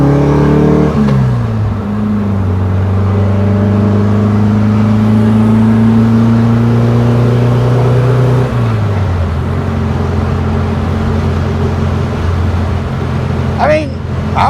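A 1968 VW Type 3 Squareback with an 1835cc engine and an idling problem runs steadily and loudly, its tone rising briefly and then dropping back to a rough, even drone.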